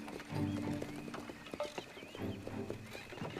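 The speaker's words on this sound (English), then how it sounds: "You unhitch the horses, Samuel." Hooves clip-clop at a steady trot of horses pulling a wagon, with a horse whinnying, the rhythmic steps close by and moderately loud.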